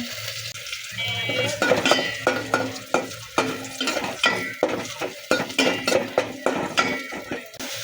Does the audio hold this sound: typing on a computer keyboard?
no